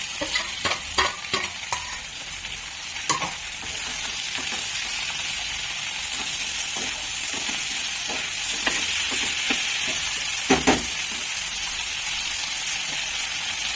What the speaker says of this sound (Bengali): এবার আমি আদা রসুনের পেস্টটাও দিয়ে দেবো, কাঁচা লঙ্কা, টমেটো।